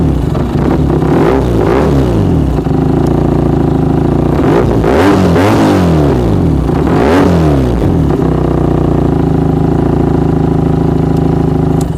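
A Benelli 302R motorcycle engine fires up close and loud, then revs sharply several times in quick bursts before settling back to a steady idle.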